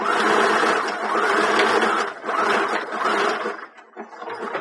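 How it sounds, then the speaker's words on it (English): A sewing machine runs a zigzag stitch around the edge of a fabric ice pack heart, humming in steady bursts with short pauses between runs, close and clear. "And so we've just gone and sewn a zigzag all the way around."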